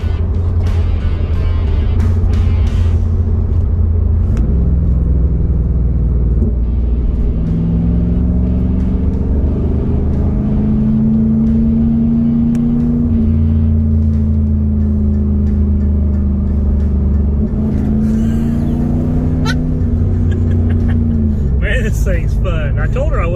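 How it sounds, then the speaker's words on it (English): A 1999 30th Anniversary Trans Am V8 downshifts and pulls, its loud, deep engine drone rising and falling in pitch through the gears. Someone talks over the engine throughout. "I'm gonna downshift where you can hear it."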